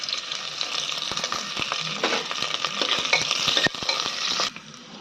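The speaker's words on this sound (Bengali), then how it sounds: "পেঁয়াজটা হালকা ভাজা হয়ে গেছে" Sliced onion frying in a little oil inside a pressure cooker, a steady close sizzle with scraping stirs and clinks of a utensil against the pot, ending abruptly near the finish.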